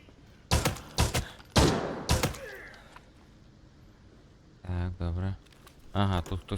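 Rapid bursts of gunfire in the game Arena Breakout Infinite crack sharply in the first couple of seconds, then voices speak briefly over a quiet background.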